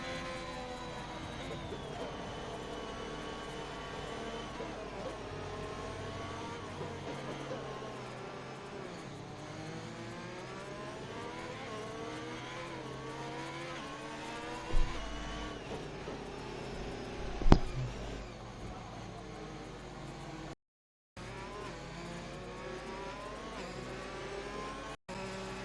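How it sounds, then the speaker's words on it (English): Racing cars in an F1 video game behind the safety car on the Azerbaijan circuit, a steady drone of multiple engines with shifting revs throughout, a couple of brief louder bursts, and talk over the top. "The safety car has picked the leaders back up."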